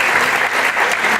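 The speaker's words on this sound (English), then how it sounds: "please give a round of applause to Dr. Thomas Lewis." An audience at an evening Alzheimer's summit lecture in Bermuda applauds, a dense, loud, even wash of clapping from many hands.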